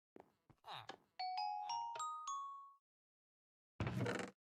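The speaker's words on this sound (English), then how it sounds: "Because we've got a McDonald's over here, which is like my favorite store purely because of the doorbell." A McDonald's store doorbell in a cozy cake-shop game plays a bright multi-note electronic chime, several clear tones in a row, following brief speech-like sounds; a burst of noise follows after a short pause.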